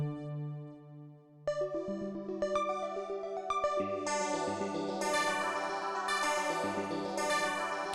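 Bright Casio CZ-1 phase distortion synth plucks ripple in a fast repeating arpeggio after a soft low intro, the pattern climbing and thickening into a steady, shimmering sequence.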